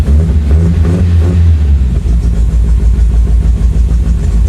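A 1975 MGB engine that sat for sixteen years runs roughly up close, a loud, uneven low throb with irregular pulses and faint sputtering, never settling into a smooth idle.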